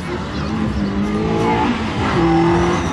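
A Fiat Seicento 1.2 rally car engine at the 2023 Rajd Strzeliński rally drones and revs continuously, shifting pitch as it runs, loud and fairly close, with voices mixed in underneath.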